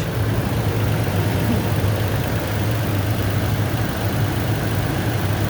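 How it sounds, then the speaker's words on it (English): A 2019 Toyota Tacoma TRD off-road 4x4 with its V6 idles steadily and close, a smooth, even hum with a low, constant drone that holds unchanged throughout, with no voices. "That V6 is running good"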